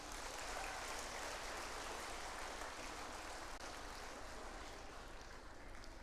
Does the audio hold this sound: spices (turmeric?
no